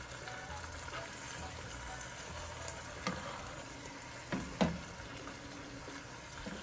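Cabbage frying on high heat in a covered pot, a steady low sizzle and bubbling running throughout, with a few soft knocks and clatters of the lid or utensil near the middle.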